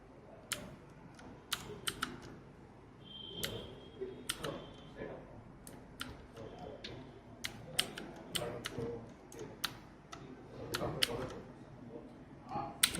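Fingers striking keys on a backlit computer keyboard, a stream of sharp, close clicks in irregular rhythm with occasional quick bursts over a quiet room.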